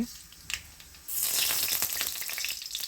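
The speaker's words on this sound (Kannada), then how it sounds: "ಸಾಸಿವೆ ಹಾಕ್ಕೊಂಡಾದಮೇಲೆ ಚಟಪಟ ಚಟ್ಪಟ ಸಿಡ್ದಾದಮೇಲೆ ಈರುಳ್ಳಿ ಹಾಕೊಳ್ಳಿ" Mustard seeds hit hot oil in a pan; after a brief quiet start a sudden close burst of crackling sizzle sets in and continues with small spitting pops.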